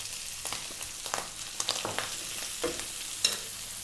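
Chopped onion drops into a pan of frying bacon, sizzling and crackling steadily with light stirring scrapes and a few sharper pops, close up with no talking.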